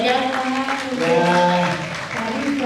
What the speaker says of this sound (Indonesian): kasih tepuk tangan buat mereka